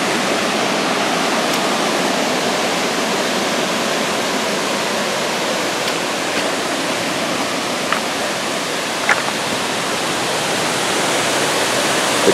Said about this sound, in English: get the full effect of the waterfall